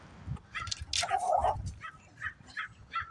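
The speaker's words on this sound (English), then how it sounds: "I didn't even know it was a dog over here." Small fluffy, scrappy leashed dog barking outdoors, a few sharp yaps and yips spread across a few seconds, moderately near and fairly quiet, with faint background noise.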